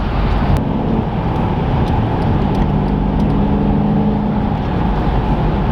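A 600-horsepower Mercedes E63S AMG wagon in sport mode gives a steady, loud engine drone with dense low rumble, sounding from inside the car while it accelerates on the road.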